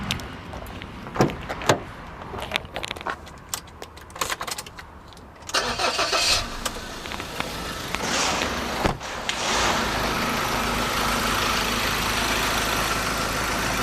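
A 2014 Mazda BT-50 Hi-Racer 2.2 diesel pickup with automatic transmission is started after some clicks and handling sounds, then settles into a steady, close idle that continues to the end.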